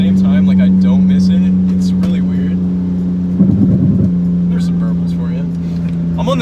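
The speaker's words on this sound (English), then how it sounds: "There's some burbles for you." A straight-piped BMW 335i with an N54 engine, open from the turbo back, idles with a deep steady drone and breaks into a short crackling burst of burbles midway, with people talking over it.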